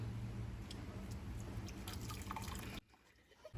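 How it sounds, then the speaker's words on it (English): Mint tea trickles and drips steadily as it is poured through a filter into a glass, a continuous close liquid patter that stops abruptly near the end. "Pour it into glass while filtered."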